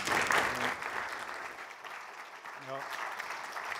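An audience at a university distinguished seminar breaks into applause to welcome the speaker, a short burst of clapping that is loudest at the start and then eases to a steadier patter.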